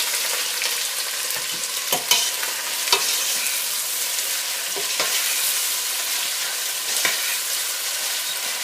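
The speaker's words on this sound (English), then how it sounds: "First, I'm going to go ahead and add the 3 cups of onions in here. Give it a stir." Three cups of onions sizzle steadily in hot oil for a korma sauce while being stirred, with occasional spoon knocks and scrapes against the pan and no talk.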